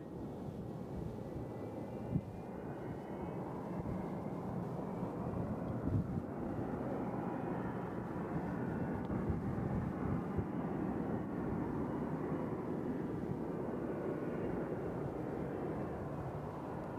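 An airliner landing at Nashville International Airport produces a steady distant roar mixed with wind noise across the whole stretch, without speech.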